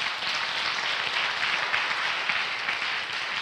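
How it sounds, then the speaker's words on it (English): A church congregation claps together during a sermon, a steady dense wash of many hands with no break, moderately loud and fairly distant. "Somebody clap for Jesus."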